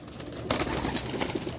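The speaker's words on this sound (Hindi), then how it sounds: "जैसे कि ये टैडी कबूतर हैं" Teddy pigeons kept as pets give soft, low cooing calls, faint and brief against a quiet background.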